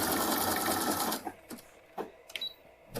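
A serger sews the side seam of a youth tank top, its motor whirring loud and fast for about a second before stopping, followed by a few small clicks and snips of handling.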